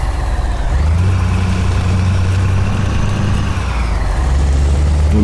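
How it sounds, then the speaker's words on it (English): A Scania 730 V8 Euro 6 truck engine with an Opticruise gearbox in Euro Truck Simulator 2 rumbles steadily at idle, a loud, deep, continuous drone heard from outside the cab. "And this, as I showed you, is with the 730 V8 engine, Euro 6, and an Octocruise gearbox."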